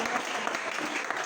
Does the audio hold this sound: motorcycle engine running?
no